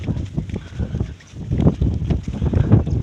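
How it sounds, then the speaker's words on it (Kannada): Strong wind gusting near Tom Bridge in Hassan during rain, a loud rumbling buffet that swells and dips, pressing hard on the microphone. "ಗಾಳಿ ತುಂಬ ಸ್ಪೀಡಾಗಿ ಬೀಸ್ತಾ ಇದೆ."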